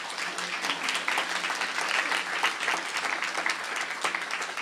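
An audience at a dementia-friendly conference claps steadily, a moderately faint, even round of applause lasting the whole stretch.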